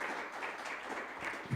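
Church congregation clapping in praise during a sermon, a soft, even patter of many hands heard from a distance for a moment.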